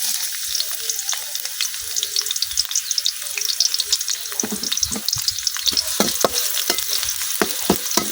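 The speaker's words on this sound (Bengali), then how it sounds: "এখন আমি দিয়ে দিতেছি কাটতে রাখা পেঁয়াজ" Chopped onion frying in hot oil in a wok, a dense continuous sizzle with scattered crackles and scraping stirs that grow busier and louder in the second half, close and steady, no voices.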